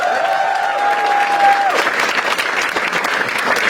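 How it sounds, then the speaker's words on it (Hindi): Audience applause at a live comedy-style show, a dense steady clatter of many hands clapping that fills the whole stretch at a loud, even level, with a brief whistle-like tone early on. "एक बार बसीर के लिए ताली बजाओ सब लोग।"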